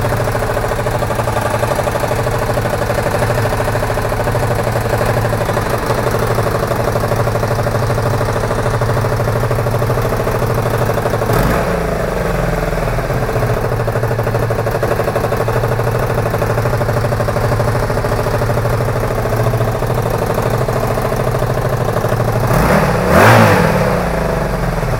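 A Honda VF1000F2F Bol D'or motorcycle engine, newly transplanted, runs steadily for its first start, holding a loud, continuous mid-pitched drone with a couple of brief revs, the last one near the end, and no talking.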